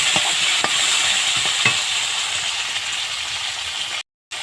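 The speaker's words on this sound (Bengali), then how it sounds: "এবার আলুটা আমি লাল লাল করে ভেজে নেব একটু।" Cut potatoes frying in oil in a pan give a steady bright sizzle, with a few sharp clinks of stirring early on and a brief dropout near the end.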